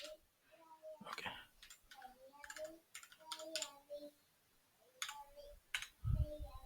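Quiet, irregular bursts of key clicks come from a computer keyboard being typed on during an Oracle database session, with brief pauses between runs.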